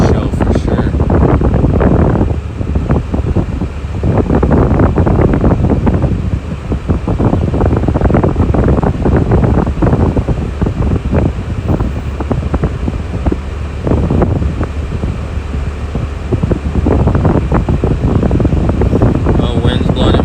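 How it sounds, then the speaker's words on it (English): An air conditioner runs outdoors near a wildfire scene, a loud continuous roar mixed with gusty wind buffeting on the microphone throughout. "You know what that is? That's the AC."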